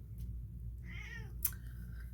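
A cat gives one clear, rising-and-falling meow nearby, followed by a short sharp click and a softer second call over a low background hum.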